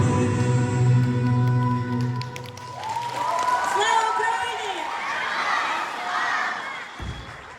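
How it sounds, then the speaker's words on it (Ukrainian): Audience applauding and cheering for a children's vocal-theatre studio after a song, a swell of clapping and shouts from a crowd as the music fades, with voices calling out among it. "Оплески загону Диплодон."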